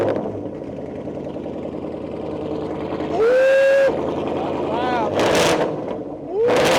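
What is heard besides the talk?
2024 Ford Mustang GT exhaust with muffler and resonator deleted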